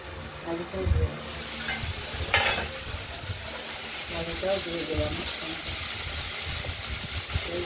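Potatoes fry in a pan with close, steady sizzling and crackling, broken by a few clatters of stirring and brief louder bursts of hissing.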